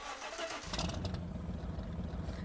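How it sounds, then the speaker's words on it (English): A car engine starting and revving: a quiet hiss first, then a low engine rumble kicks in about halfway through and keeps going, throbbing and fairly faint, with nobody talking. "Let's rev up that engine."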